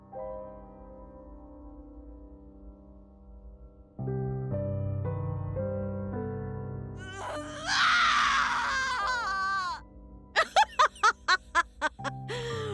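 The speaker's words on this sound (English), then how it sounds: "What a fantastic scream!" A character screams in the video game Death end re;Quest 2, a loud rising shriek followed by a series of sharp, rapid cries, over steady game music.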